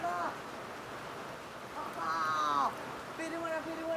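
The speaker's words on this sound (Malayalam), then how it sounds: "മഴ വന്നിരിക്കുകയാണ് സുഹൃത്തുക്കളെ കൊച്ചിയിൽ, അതും പെരുമഴ" Heavy downpour in Kochi, a dense broadband hiss of rain falling steadily throughout, with a voice speaking over it at moments.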